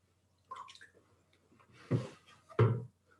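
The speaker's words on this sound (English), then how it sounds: "then rinse off your sponge real well in water," A glazing sponge being rinsed in water while glazing ceramics: a few soft splashes and squishes, with a faint one early on and two louder wet sloshes later, close by and with no talking.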